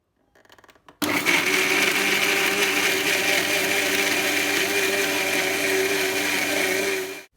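A mixer grinder blends sugar, cardamom and milk with a loud, steady, close whirring motor that runs without a break for about six seconds after a brief start-up.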